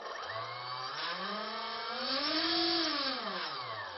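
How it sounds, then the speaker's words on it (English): Electric motor of a homemade RC trainer jet whirs up and down in pitch, a close, steady electric whine with harmonics that rises, peaks, then eases off, alone without talk. "and the motor is not bad"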